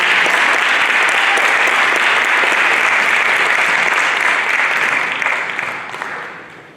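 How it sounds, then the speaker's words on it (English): Audience applause after a student business pitch for CutterCoaster, a dense, loud, steady burst of clapping that carries on for several seconds before tapering off near the end. "Let's give a round of applause for our"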